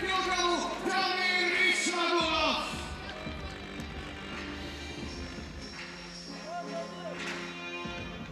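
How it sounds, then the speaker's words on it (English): Crowd at a UFC Fight Night weigh-in in Prague cheers and yells loudly at first, then settles into a steadier murmur under a commentator's voice. "Hearing it from the crowd here in Prague tonight."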